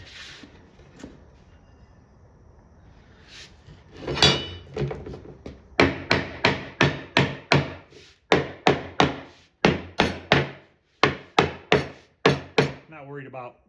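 Repeated hammer blows strike the wooden bottom of a water-damaged arcade cabinet, a steady run of sharp, loud knocks in quick bursts after a few quieter taps at the start.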